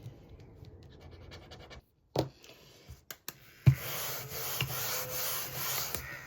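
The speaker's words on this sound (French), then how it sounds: "Ouais, je vais quand même gratter, comme ça on voit." A scratch card is scraped with short, dry rubbing strokes, first in small bursts and then as a longer steady scratching, close and fairly quiet with no talk.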